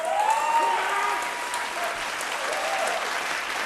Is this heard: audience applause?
yes